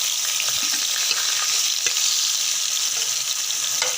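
Vegetable masala ingredients for aloo gobi fry lightly in a pan, a continuous bright hiss of sizzling oil with faint stirring scrapes, steady and close throughout.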